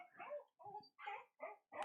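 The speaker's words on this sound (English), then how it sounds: "Sorry, it's my dog." A pet dog barks five times in a quick series of sharp, loud, close yips and barks, some with a whimpering edge. There are brief silent gaps between the barks and no talking.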